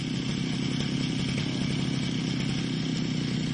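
Yamaha RX King motorcycle engine running close by, a dense continuous buzzing two-stroke rattle at steady revs, loud and alone.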